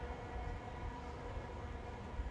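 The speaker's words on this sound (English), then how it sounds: "It's obviously a train." A train passes in an urban field recording in Hackney, London: a steady low rumble that holds throughout, with no voices over it.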